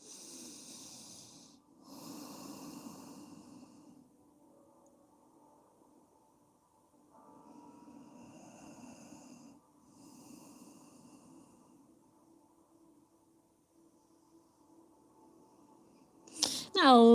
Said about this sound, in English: Breathing through your nose.